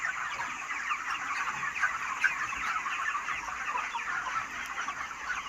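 Steady chorus of chickens clucking and murmuring continuously, moderately close, with no talking.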